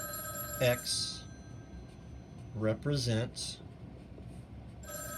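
A telephone rings in short bursts, with two or three brief rings sounding under a person speaking in a room.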